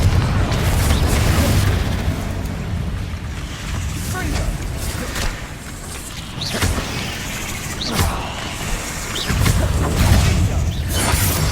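Confringo blasting-curse explosions in the video game Hogwarts Legacy: several heavy booming blasts, close and loud, spaced across a dense rumbling background.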